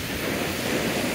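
Ocean waves surge through a rock doorway at Pfeiffer State Beach, a steady loud broadband wash of surf with wind noise, heard alone throughout the short stretch.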